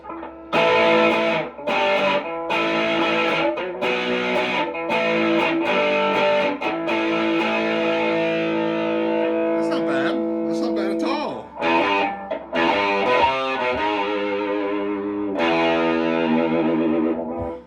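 Distorted electric guitar playing a run of sustained barre chords through a Mostly Harmless Effects Griffin pedal, heavy effects, loud and close, with no talking.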